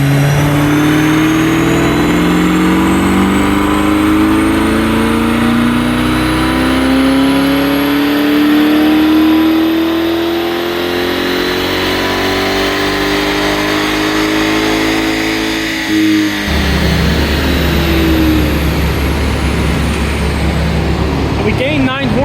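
A Corvette E-Ray engine on a dyno revs up in one long sweeping pull, loud and close, with its pitch climbing steadily before it drops back to a lower drone, while people talk over it.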